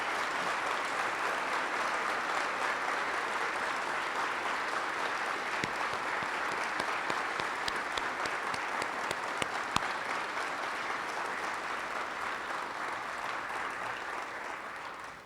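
A crowd at an energy hub's grand opening ceremony applauds the 2021-2022 Lloydminster female Blazers with full, sustained clapping that holds an even, loud level for around fifteen seconds before tapering slightly.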